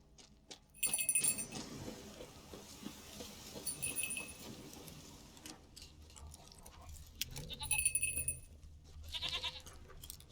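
A goat in the video game The Witcher 3 bleats a few times in short bursts over a busy game soundscape of rustling and clinking, with quieter stretches between calls.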